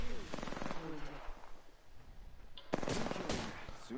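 Rapid automatic gunfire in the video game Apex Legends comes in two dense bursts, one near the start and a louder one later, with speech partly under it.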